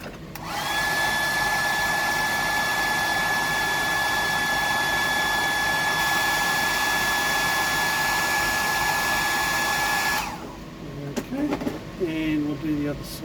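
A hair dryer blows steadily on a freshly wiped stencil, a loud, close, constant whirring roar that runs for about ten seconds before cutting off, followed by faint handling noises.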